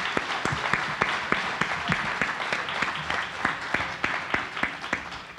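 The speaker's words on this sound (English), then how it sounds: "Let's give them a round of applause, please" A conference audience applauds a military adjustment panel with steady, dense clapping that keeps up at an even level the whole way through, with a few louder individual claps standing out near the listener.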